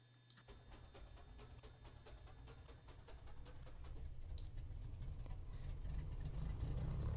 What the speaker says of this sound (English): we should engage the starter now. First, let's engage the left engine start